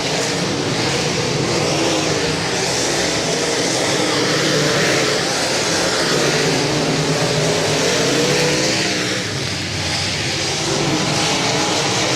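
A-Mod race cars roar around a dirt track in a dense, continuous engine drone that swells and fades slightly as the pack passes, loud and unbroken.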